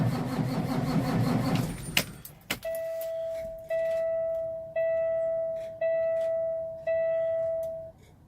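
A Peterbilt truck's fuel system being primed after a fuel filter replacement: a sharp clunk, then a steady electric whine that cuts out and restarts in five or six even pulses, each fading slightly as it runs.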